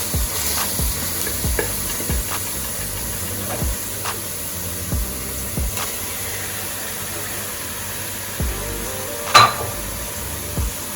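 Ackee sizzles and hisses steadily in a hot pan for a Jamaican-style rice dish, a continuous frying crackle broken by occasional louder pops and utensil clinks, with no talking.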